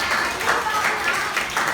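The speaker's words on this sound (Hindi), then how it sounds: "1 2 3 इन 3 बच्चों के ताली बजाओ" Fourth-grade schoolchildren in a classroom clap in an even, repeating rhythm for three classmates, with voices mixed in underneath.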